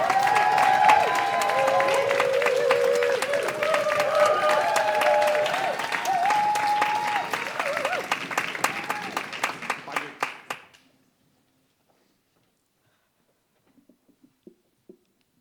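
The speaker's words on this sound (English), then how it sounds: "get a ripple going, let's get a whooping and a cheering, and welcome to the stage, Fausia Agbony!" Lively applause from a poetry slam audience welcoming a poet, many hands clapping with whoops and cheers over it, building then thinning into a few last claps before silence.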